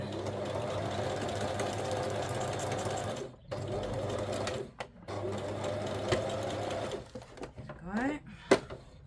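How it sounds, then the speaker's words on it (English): A sewing machine stitches fabric scraps in steady whirring bursts, stopping and restarting several times, with a person talking in the pauses. "No, it's sewing in one space."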